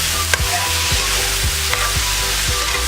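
Vegetables sizzling in a pan are stirred with a spoon, giving a steady loud fry broken by regular scraping strokes roughly every half second.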